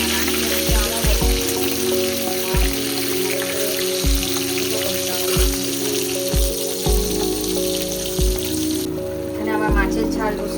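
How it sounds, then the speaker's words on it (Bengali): Rui fish fries in a pan of oil with a continuous loud crackling sizzle, over a low rhythmic thumping in the background and no speech. "মাছটা এখানে ভাজতে দিয়ে দিয়েছি।"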